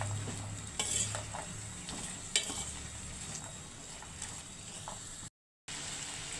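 Turmeric-tinted rice is stirred and fried in a pan, giving a steady low sizzle with scattered scraping taps of the spoon, close and moderately quiet, with a brief dropout near the end.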